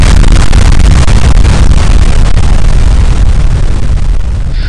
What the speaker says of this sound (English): Time for explosion.